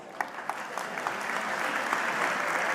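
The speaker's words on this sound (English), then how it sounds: "Can I have a round of applause?" Audience at a UN high-level plenary opening session starting to applaud, a few scattered claps at first that quickly swell into steady, fuller clapping from a large hall crowd.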